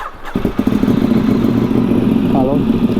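A Ducati 800 motorcycle engine starts with a clatter and settles into a loud, throbbing idle close by, with a brief rev near the end.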